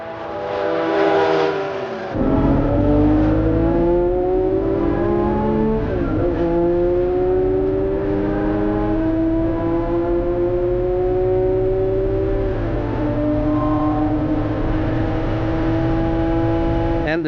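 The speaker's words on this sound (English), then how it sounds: "this is Alexander Ritwega's Ferrari Daytona." A Ferrari Daytona racing on the Tour Auto 2025, its engine revving hard and climbing through gears in long rising wails, loud and close throughout with a brief dip between shifts.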